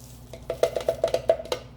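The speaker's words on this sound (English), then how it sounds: "Now I'm gonna dump my wafers in this bowl." Crunchy wafers tumbling out into a bowl for a banana pudding cheesecake crust, a quick run of about eight close, sharp clattering rattles in uneven rhythm, with no talking.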